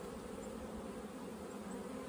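Honeybees buzz in a dense, even hum from an opened hive during an inspection done without smoke, the drone steady and close with no voices over it.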